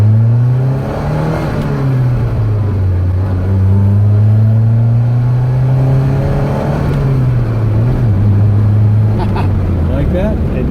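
A Saab 99 engine hums steadily and then revs, pitch rising and falling as it accelerates, with people talking over it inside the cabin.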